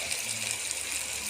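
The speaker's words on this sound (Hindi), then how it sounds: "पानी हमने डाल दिया" Water poured into a cooking pot of fried potatoes, a steady close rushing gush lasting about a second.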